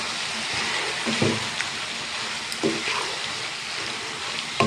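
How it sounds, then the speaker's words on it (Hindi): Chicken vegetable macaroni is stirred in a hot pan: a dense, continuous sizzle with several soft scraping pushes of the spoon, close and fairly loud, with no talking. "और इसको अच्छे तरीके से मिक्स कर लेंगे।"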